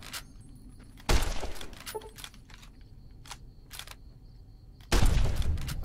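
Two loud gunshots in the video game Fallout New Vegas during VATS targeting, each a heavy booming blast several seconds apart, with faint clicks and game ambience between them.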